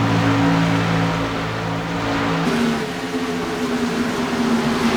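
Race cars at a Kentucky PRL truck series race roar past with a loud, steady engine drone, the pitch shifting midway as one note drops away and another takes over, heard close and without talk.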